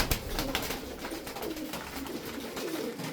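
Several tumbler pigeons coo together in a loft, a dense, steady burbling chorus at close range that carries on without pause and without any voices.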